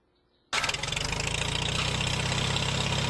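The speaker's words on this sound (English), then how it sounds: "This is a 1947 farm tractor, Farmall." A 1947 Farmall H farm tractor engine fires up abruptly after a moment of quiet, then settles into a loud, rhythmic chugging idle close by.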